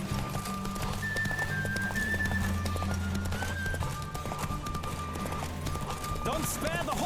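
Hooves clip-clop at a steady gallop of a horse in The Witcher 3: Wild Hunt, under layered music and a horse's whinny, with brief voices mixed in.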